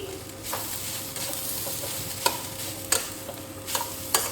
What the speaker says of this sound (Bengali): মশলাটা মাখিয়ে নিই